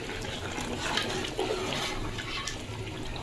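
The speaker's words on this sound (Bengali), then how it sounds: "এখন একটু ঝোল দিয়ে দেবো আবারও কষানোর জন্য" Broth pours into a cooking pot of simmering duck curry, a soft continuous splashing and trickle of liquid heard close and fairly quiet.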